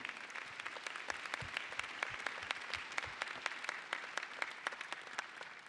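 Audience applause at a Northwest winter commencement ceremony, a steady wash of many hands clapping with distinct sharp claps standing out throughout, moderately distant and continuous.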